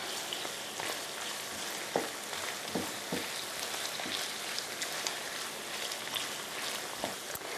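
Tofu and garlic fry in a large pan, a steady dense sizzle with occasional sharper pops and crackles, close and moderately loud, with no voices.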